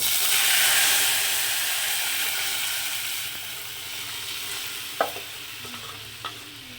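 Mustard seeds tempering in hot oil in a pan for star fruit dal give a steady close sizzle and hiss, fading slightly midway, with a few sharp pops and spatters near the end.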